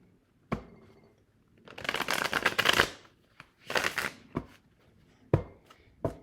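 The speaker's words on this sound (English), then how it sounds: "Here, let me shuffle it one more time." A tarot card deck being shuffled in several bursts: sharp single taps and riffling rushes of cards, close and fairly quiet, with no talking.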